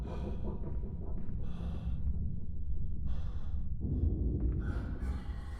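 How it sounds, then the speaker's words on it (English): Heavy, ragged breathing in the video game Amnesia: A Machine for Pigs, close and loud, with repeated gasping inhales and snorting, sighing exhales in an uneven rhythm, heard alone. "is that Mandus breathing or is that the creature?"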